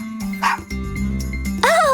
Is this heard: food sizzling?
no